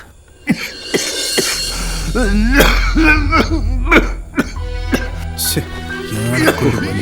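A person coughs several times in short harsh bursts, mixed with throat clearing and some talking, close and fairly loud.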